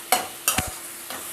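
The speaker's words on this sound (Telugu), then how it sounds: "ఈ బాండీలోనే ఉన్న ఆయిల్లో మనము టమాటా ముక్కల్ని ప్లస్ దాంతోపాటు కొంచెం చింతపండుని కూడా వేసి బాగా మగ్గించాలి" Tomato pieces and tamarind are stirred in hot oil in a pan, giving a few quick scraping strokes over a low background sizzle.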